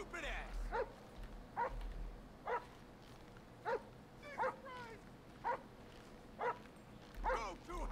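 Police dog in a GTA 5 police chase through a favela barks in a steady series of sharp, moderately close yips about once a second, with faint background game noise.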